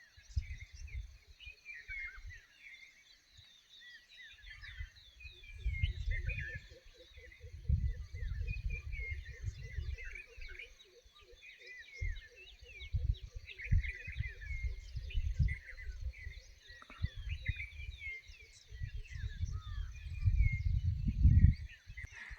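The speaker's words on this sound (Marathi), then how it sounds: "ह्या झाडांवरती जे पक्षी राहतात त्यांचे जे घरटे आहेत, तिथून एक छान असा त्यांचा आवाज येत असतो" Birds chirp and twitter steadily from trees in a village at sunrise, a dense layer of small calls with a faint insect-like trill, soft and distant, with low rumbles from the surroundings beneath.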